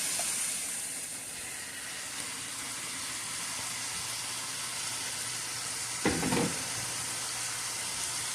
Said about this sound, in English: I'm going to go ahead and throw in our broccoli and our cabbage.